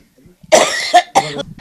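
A person in a damp house coughs close up, making a short burst of three harsh coughs within about a second.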